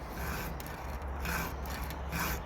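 A hand file rasps against a chainsaw chain to sharpen it, on a farmertec G288 saw, in a faint, steady scraping with a few slightly louder strokes, close and without talk.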